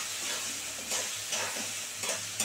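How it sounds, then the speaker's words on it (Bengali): Soaked red lentils fry in a hot pan while being stirred, giving a steady close sizzle broken by several scraping strokes of the spoon, with no talking. "একটু মুসুর ডালটা ভালো করে ভাজা ভাজা করে, সুন্দর করে একটু ভালো করে ভাজা ভাজা করবো মুসুর ডালটাকে।"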